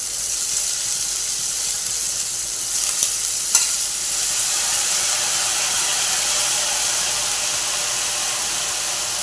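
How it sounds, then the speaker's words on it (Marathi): Dill greens stirred into fried onion in a hot pan, a steady loud hiss of sizzling with a couple of scraping stirs partway through and no talking. "शेपूची भाजी टाकून घेऊया।"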